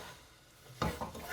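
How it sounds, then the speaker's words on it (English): Leeks sizzle softly in a hot pan, a faint frying crackle broken by a couple of stirring scrapes near the end. "You'll know it's hot enough because you can hear it sizzling."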